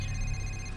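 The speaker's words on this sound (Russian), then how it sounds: "Звонит телефон." A telephone rings once in a short, steady electronic trill inside the Condemned: Criminal Origins video game, faint beneath a low hum.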